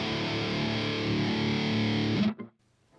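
Distorted electric guitar on a Kemper Profiler run through a GGD Cali cabinet for a Mesa-style tone: a thick, sustained chord held loud for a couple of seconds, then choked off with a short stutter.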